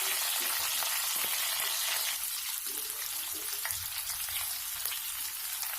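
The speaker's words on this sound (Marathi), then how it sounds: "या तेलात मी थोडी कोथिंबीर टाकणार आहे आणि हे भरलेले वांगे एक तेलात ठेवणार आहे." Stuffed brinjals frying in hot oil with a little coriander give a loud, steady, hissing sizzle that carries on without a break and sounds close by.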